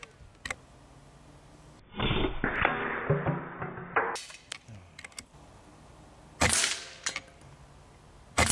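Air Arms S510 XS Ultimate Sporter .22 regulated PCP air rifle firing: a sharp crack followed by some mechanical clicks, close and fairly loud, with a few isolated clicks and snaps around it.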